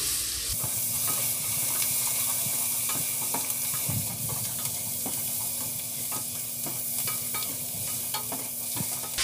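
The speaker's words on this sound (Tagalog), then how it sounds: "Igigisa muna natin yung bawang, sibuyas at yung luya dito sa margarine." Garlic, onion and ginger sauté in margarine for turkey adobo, a steady close sizzle with stirring clinks and scrapes throughout, no talking.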